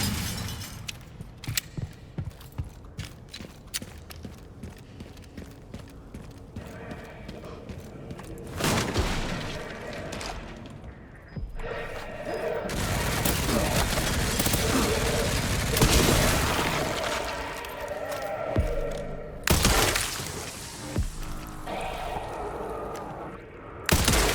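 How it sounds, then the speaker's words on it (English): Gunfire and impacts in the Resident Evil Requiem video game, with shattering bursts, booms and rapid shots scattered across a busy, loud battle soundscape with no one talking. "Where is that guy that was shooting at me with a machine gun?"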